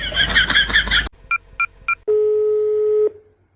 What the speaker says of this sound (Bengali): ভারতের বড় ভাইয়ের ফোন দিতেছি।